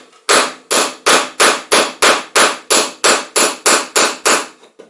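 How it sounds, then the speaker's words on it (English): Twelve loud, evenly spaced metallic hammer strikes on a wedge ring out close by while removing a two-part sculpture mold, each blow sharp and followed by a brief decay, with no voices. "Of course, this hammer's not enough for it."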